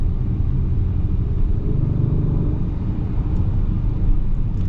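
A 2026 Acura MDX Type S turbo V6 engine pulls with a loud, steady low-frequency drone and rumble, smooth and continuous throughout with no talking.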